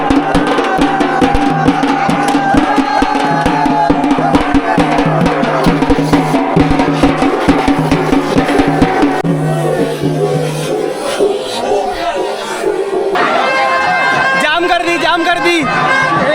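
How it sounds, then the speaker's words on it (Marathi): A dense crowd at the Raiyba Devi village fair (yatra), a loud continuous babble of many voices with shuffling and calls, close and busy throughout, with a nearby voice talking over it. "जाम गर्दी."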